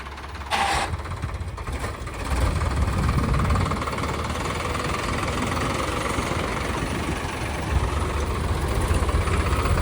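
Two Solis tractors, 50 HP and 45 HP, locked in a tug-of-war in a field: loud, continuous diesel engine drone with deep low rumble and steady knocking, straining throughout with slight surges, no speech.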